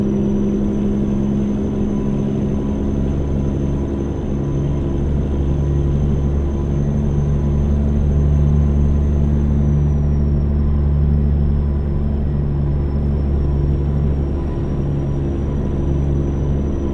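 A reworked 1987 Marmon truck engine in American Truck Simulator drones with a steady, loud low rumble and a faint high whine, running continuously without pause.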